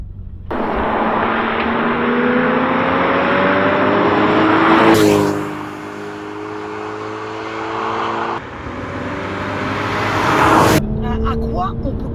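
A Porsche Cayman S drives with steady engine drone and rising and falling harmonic tones as it changes gear, loud and close throughout, with a sharp shift in pitch midway and again near the end.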